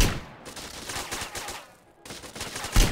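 Gunfire rattles in Grand Theft Auto, a dense run of loud shots with a brief lull before another burst, no one talking.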